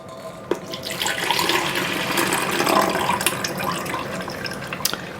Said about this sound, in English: now I'm going to pour my juice through this and strain it.